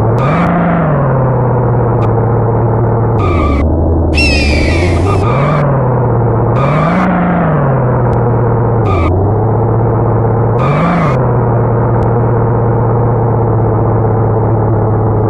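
A car in Interstate '82 weaves through a serpentine cone course, its engine droning loud and steady while the pitch rises and falls with each turn, with occasional tire screeches between.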